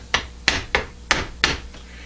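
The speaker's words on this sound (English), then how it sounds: "Just using the impact screwdriver to take up that last little bit." Impact screwdriver driving screws on a lathe 3-jaw chuck: five sharp, percussive hammering bursts in quick irregular succession, close and fairly loud, with a sixth fainter one trailing at the end.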